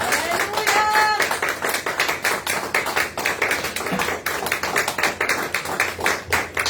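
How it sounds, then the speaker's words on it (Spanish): Congregation in a Spanish-language church service claps in a dense, steady rhythm of distinct hand claps for several seconds, with a brief tonal sound early and no clear talk over it. "¿Qué te parece si le damos un aplauso al Señor?"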